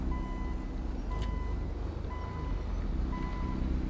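A tow truck backs up with a regular series of beeping tones at a medium distance, over a steady low engine rumble and road noise.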